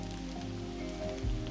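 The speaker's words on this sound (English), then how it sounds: "even with a little bit of drizzle right now" A light drizzle patters softly and steadily beside an off-grid cabin clearing, a faint, even hiss of fine rain with no voices over it.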